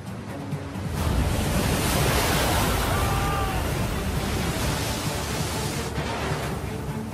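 A loud, steady roar of rushing ocean water fills the scene, broad and continuous like heavy surf or a surging wave, with no voices over it.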